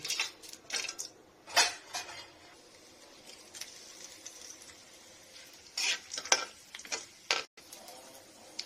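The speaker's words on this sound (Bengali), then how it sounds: "প্রথমে গরম মশলা দিয়ে দিব তেলে।" Whole garam masala spices sizzle quietly in hot oil, with intermittent scraping and clinks of a utensil stirring in a metal pan.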